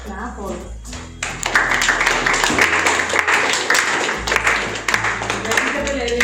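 Audience at a school Independence Day celebration clapping for prize winners, a moderate burst of applause over a low background hum and music, with a voice speaking near the start.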